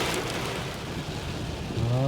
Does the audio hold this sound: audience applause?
no